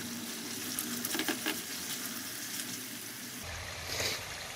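Masala spices frying in a pan for Hyderabadi baingan: a steady close sizzle with a few soft clinks and stirs, then a brief louder burst near the end. No one speaks.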